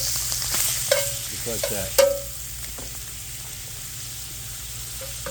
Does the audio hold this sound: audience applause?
no